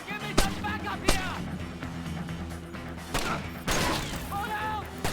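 Gunfire in the stealth shooter Splinter Cell: Chaos Theory, several sharp shots spaced a second or two apart over a busy game soundscape, with a voice shouting in between.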